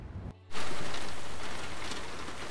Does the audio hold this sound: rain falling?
yes